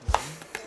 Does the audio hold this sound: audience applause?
no